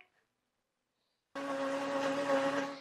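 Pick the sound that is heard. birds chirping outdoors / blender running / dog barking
blender running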